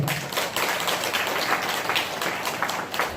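Applause from an audience gathered for a dharma talk at a Buddhist temple, a steady patter of many hands clapping that runs unbroken for a few seconds with no voices.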